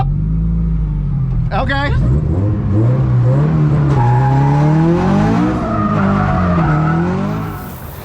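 A Scion FR-S with a Rocket Bunny kit on three-piece wheels drifts on the street, engine revving up and down as tires squeal loudly and continuously, with a brief voice over the noise.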